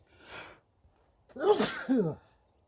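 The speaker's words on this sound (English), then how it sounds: "as I sneeze" A single sneeze, a breathy intake followed by a loud, sharp burst with a voiced tail, close to the listener.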